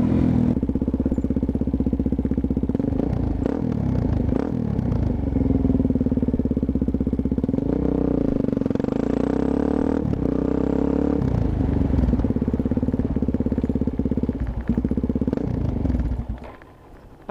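A motorcycle fitted with a Yoshimura exhaust idles steadily and close by, a low continuous rumble with some mechanical clatter, holding even for about fifteen seconds before cutting out near the end.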